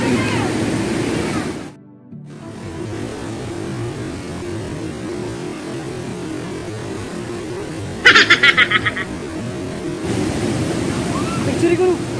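Bangon Falls in Balangiga, Eastern Samar, rushing loudly as its water rises, with a steady broadband roar running almost throughout and a brief mechanical rattle partway through.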